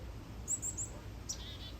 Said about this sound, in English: My little chickadee friend is wishing you well and sending you joy.